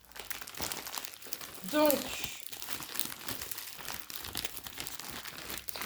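Plastic packaging from a Temu parcel crinkles as it is handled, with one louder burst of rustling near the middle, while someone talks over most of it.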